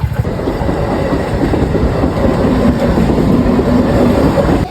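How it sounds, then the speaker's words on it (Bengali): A train pulls into a station platform on a wet, rainy day, giving a loud, steady rumble of wheels and carriages with faint clickety-clack running through the whole stretch. "দাঁড়িয়ে আছি, ট্রেন ঢুকবে এখনই"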